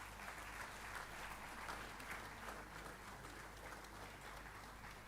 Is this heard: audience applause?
yes